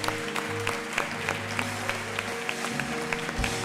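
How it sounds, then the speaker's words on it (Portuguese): A church congregation at an eighth-anniversary service claps quietly and steadily over a low sustained instrumental drone, with brief accented claps standing out from the soft wash. "Você pode dar um aplauso a Jesus por isso?"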